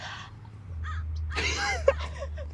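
A crow-like cawing sound effect plays in an interview setting: a couple of short, harsh caws, fairly faint and alone over low background hum.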